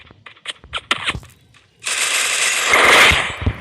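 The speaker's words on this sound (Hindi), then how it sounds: "उसको भी मैंने MP40 से उड़ा दिया" MP40 gunfire in the Free Fire mobile battle-royale game, a few sharp isolated shots followed by a sustained rapid automatic burst, loud and close.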